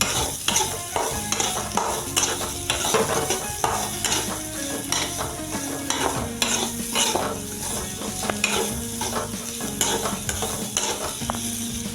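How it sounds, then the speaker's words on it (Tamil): Sliced bitter gourd (pavakai) is stir-fried in a pan, with a spatula scraping and clattering in frequent strokes over a steady loud sizzle, without voices. "அப்பப்போ நம்ம நல்லா வதக்கிக்கலாம்,"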